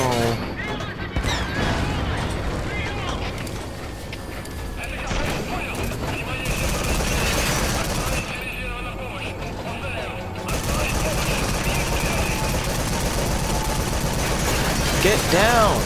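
Rapid bursts of automatic gunfire and impacts from a firefight in Metal Gear Solid V: The Phantom Pain, set in Afghanistan, coming in dense volleys with short lulls. A player talks loudly over the shooting.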